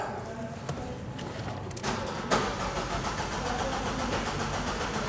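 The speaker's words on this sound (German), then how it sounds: "Gentlemen, please start the engine." An Abarth car engine cranks and catches, with a couple of sharp clicks before a steady mid-pitched running note settles in, close and fairly loud.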